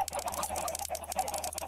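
Repeated short clucking calls from Minecraft chickens on a chicken farm, steady and fairly close, with a faint electronic hum underneath and no talking.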